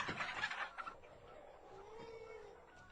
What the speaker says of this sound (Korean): 요란한 닭 울음소리와 함께 달군의 농장의 아침이 시작됐습니다.